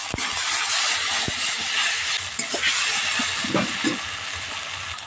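Water poured into spices frying in oil, with salt and turmeric, for a rohu fish curry with cauliflower and potato: a steady broad hiss and sizzle fills the pan throughout, with a few soft clinks and splashes near the end.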